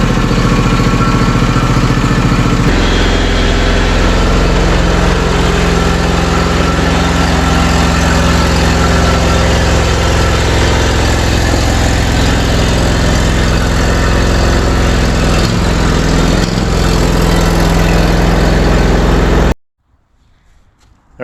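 A riding lawn mower's engine runs steadily after starting, loud and close with a continuous droning rumble that holds for most of the time before cutting off abruptly near the end.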